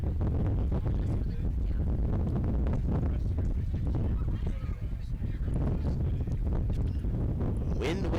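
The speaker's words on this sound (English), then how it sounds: "Wind all about Veterans Park and Alumni Field today." Strong wind buffets the microphone at an outdoor baseball field, a constant loud roar and rumble with faint distant sounds beneath it.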